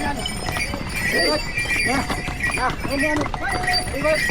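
Horses clip-clop along the rocky Kedarnath mountain trail in a quick, steady rhythm of close hoof strikes, with people talking over them.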